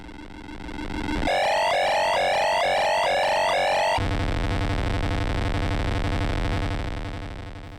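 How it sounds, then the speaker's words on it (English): A video game submarine dive alarm sounds as a loud electronic klaxon with repeated rising, wavering tones, followed by a steady, lower mechanical hum. "So I suppose that is the dive alarm."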